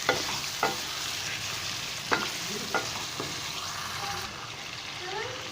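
Chicken fries in a pot with ginger garlic chili paste on medium-high heat, a soft steady sizzle broken by several sharp spoon scrapes and stirring knocks, close and fairly quiet, with no talking.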